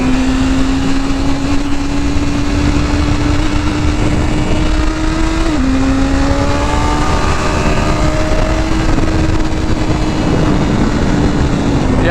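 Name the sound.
BMW S1000RR motorcycle accelerating at high RPM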